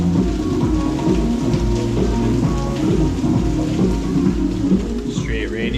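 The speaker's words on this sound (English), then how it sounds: "Straight rainy vibes," Heavy rain pours down steadily in Ao Nang, Krabi, a loud, dense, unbroken hiss of drops close by, with faint low rumbling underneath and no voices.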